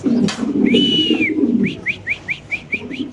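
White fancy pigeons coo softly and low, with a long whistling note followed by a quick series of short rising whistles, close and clear.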